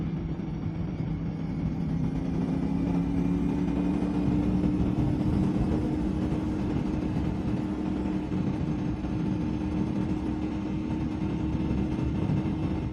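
CFMOTO 450SS sport motorcycle engine heard while riding, a steady droning hum with a low rumble and wind noise that holds constant and loud for the whole stretch, with no talking.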